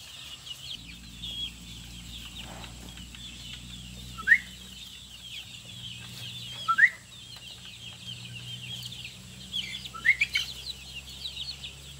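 Small chicks chirp and cluck in quick, high bursts, with a few sharper peeps standing out over a steady low hum, in a coop where young birds are being treated for coryza with swollen faces.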